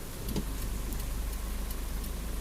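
Heavy rain pours in a dense, steady hiss outdoors by a flooded lotus pond, with a low constant rumble underneath.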